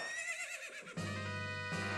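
Phantom Ganon's horse in The Legend of Zelda: Ocarina of Time 3D lets out a strong, close, shrill whinny, then a second neigh follows, with no talking over it.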